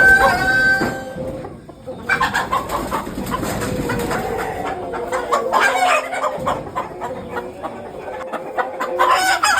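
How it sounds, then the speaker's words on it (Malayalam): Roosters on a poultry farm cluck and squawk close by as traders catch them in the morning, with agitated calls and flapping bursts throughout and a few crows mixed in. "അവർ രാവിലെ കോഴിയെ പിടിക്കുന്നത് ഞാൻ നിങ്ങളെ കാണിച്ചു തരാം."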